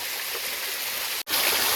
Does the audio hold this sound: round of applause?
no